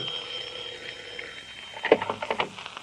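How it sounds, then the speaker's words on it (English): A radio drama telephone ring effect in an old children's serial: a rapid metallic bell trill bursts in near the end, after a faint tonal hum, with several short ringing pulses and no talk. "Excuse me a minute, Mayor, while I answer the telephone."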